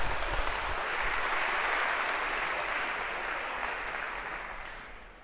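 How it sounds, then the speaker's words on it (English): A university lecture hall audience claps for volunteers who have come up front, a dense burst of applause that starts loud and slowly fades over a few seconds, with no talk. "Maybe a round of applause for our first volunteers of term."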